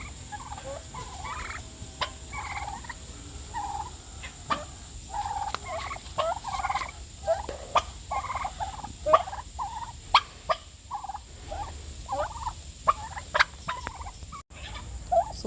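Several wild turkey toms gobble repeatedly among a small flock, bursts of gobbling at mid distance over steady outdoor background noise, with no talking.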